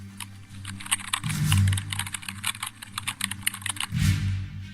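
Computer keyboard typing in an office late after hours, rapid irregular key clicks close up over a low hum, pausing briefly and then resuming.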